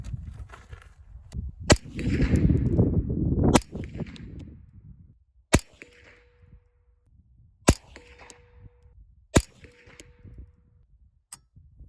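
A Savage Arms A22 .22LR rifle fires several sharp, separate cracks spaced a couple of seconds apart, each followed by a short metallic ring, with a louder stretch of handling noise early on.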